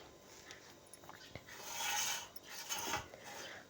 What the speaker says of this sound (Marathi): अशा छान मस्त चकल्या पाडून घ्यायच्या आहेत. अशाच पद्धतीने आणखीन पाडून घेत आहे.